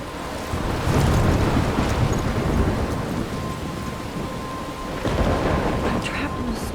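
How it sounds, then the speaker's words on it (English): Thunderstorm with steady heavy rain in the video game Life is Strange, a loud continuous rumble and wash of rainfall with swelling thunder early and again near the end, no voices. "I'm trapped in a storm?"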